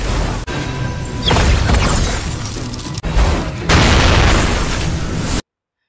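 Explosion effects from a film: two loud, close blasts, each breaking into a long crashing roar, with a sharp cut of near silence between them before an abrupt ending.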